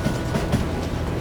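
A moving train in Call of Juarez Gunslinger, a steady dense rumble with faint rhythmic wheel clatter, loud and close, continuous throughout without speech.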